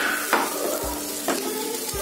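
Spice powders, coriander and red chilli, frying in oil in a pan on low heat, a constant close sizzle with two distinct scrapes of a spoon and soft knocks on the pan.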